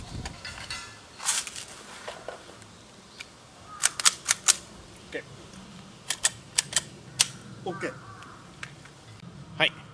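A training gun is unloaded, giving sharp metallic clicks and clacks in scattered bursts, close and crisp against a quiet room.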